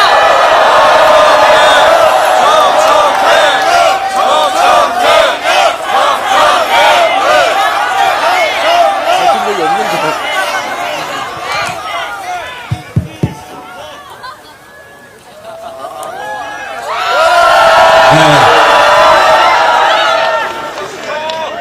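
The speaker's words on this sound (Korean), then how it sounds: "여러분 저희 함께 정청래 의원님을 큰 박수와 함성으로 모셔보도록 하겠습니다" A large crowd at an outdoor candlelight protest rally cheers and shouts over loud clapping, dipping briefly in the middle before swelling again, with amplified speech mixed in.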